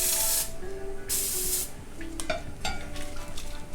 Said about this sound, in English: taking a baking dish here, and I'm going to spray it just to make the cleanup a little bit easier